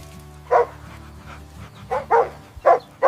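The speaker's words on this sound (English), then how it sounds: "This is a farm dog." A farm dog barks in several sharp, loud bursts: one bark, a pause, then a quick cluster of three to four barks close to the listener, with low background rumble between them.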